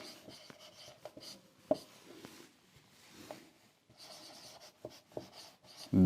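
Chalk or marker writing on a classroom board during a maths lesson, with soft scratchy strokes and taps in short irregular bursts, fairly faint and close.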